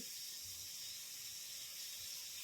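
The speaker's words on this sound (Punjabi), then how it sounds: "ਆਪਾਂ ਦਾਲ ਨੂੰ ਉਹਨੂੰ ਤੜਕਾ ਲਾ ਰਹੀ ਮਸਾਲਾ ਭੁੱਜ ਗਿਆ" Spices crackle in hot oil while a tempering is made for dal, a close, even, faint hiss with no pauses and no talking.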